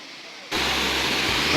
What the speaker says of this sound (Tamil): இந்த அருவியோட அழகை பாருங்களேன்